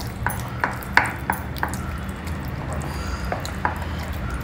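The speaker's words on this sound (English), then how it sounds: "Mix the cooked millet with the beaten curd." Cooked little millet mixed into beaten curd in a bowl, soft squishy stirring with a series of light spoon taps against the bowl, close and moderately loud.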